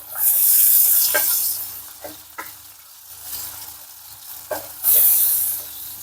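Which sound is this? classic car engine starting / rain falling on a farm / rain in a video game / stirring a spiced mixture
stirring a spiced mixture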